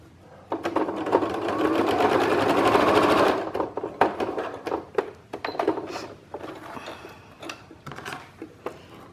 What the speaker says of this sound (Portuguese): Viés costurado na máquina.